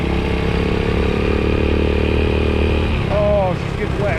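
A Honda CT70 clone motorcycle with a 125cc engine idles loud and close, its steady, throbbing chug running unbroken throughout, with a brief higher whine near the end.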